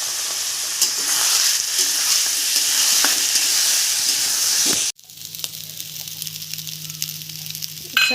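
Dal and rice for khichuri fry loudly in a pan, a dense crackling sizzle with spatula stirring, then the sizzle drops abruptly to a quieter hiss with a low steady hum beneath it.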